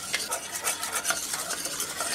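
A spoon stirs milk into a simmering flour sauce for old-fashioned creamed peas, giving a steady run of soft scraping, swishing strokes against the pan with a faint sizzle underneath and no voices.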